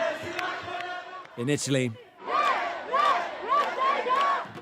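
A large protest crowd chants in rhythmic, repeated shouts at a rally in Italy, a loud surging roar of many voices, briefly preceded by a reporter speaking.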